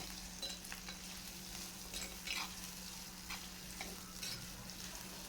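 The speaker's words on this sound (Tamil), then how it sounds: "இப்போது பச்சை ஸ்மெல் போகிற வரைய நல்லா வதக்கி விட்டுக்கலாம்." Crushed garlic and ginger sauté for a village-style fish curry, a soft steady sizzle in a pan under a low hum, with occasional light scrapes and taps of a stirring spoon, quiet and close.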